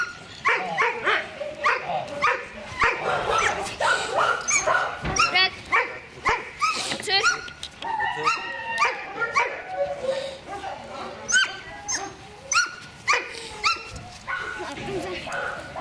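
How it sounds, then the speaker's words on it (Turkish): A 16-month-old Rottweiler, a German breed, barks, yips and whimpers in rapid, excited bursts close by, while several people talk over and around it. "Rottweiler cinsi bir köpeğimiz"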